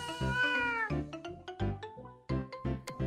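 A human voice imitates a cat, giving a series of drawn-out, tonal meows close up, one long call followed by several shorter ones in an uneven rhythm.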